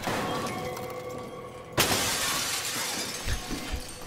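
A glass pane shatters in the horror video game SOMA: one sudden loud crash of breaking glass, followed by scattered tinkling debris and a couple of dull thuds as the pieces settle, over a low ambient game hum.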